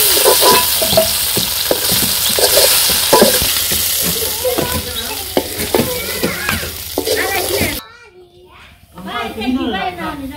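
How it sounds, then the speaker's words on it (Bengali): Fish fry in oil in a pan over a village kitchen fire, a steady loud sizzle with clinks of stirring, while children's voices and talk sound over it; the frying cuts off abruptly near the end, leaving only voices. "তো মাছ ভাজা শেষ"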